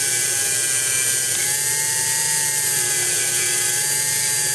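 A Proxxon or Dremel-type rotary tool, fitted with Dremel bits and used to repair a Cremina lever espresso machine, runs at a steady high-pitched whine with no talk, its pitch shifting slightly partway through.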